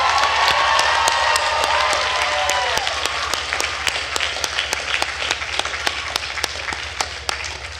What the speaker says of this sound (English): please let's have a round of applause for Professor Duren Turner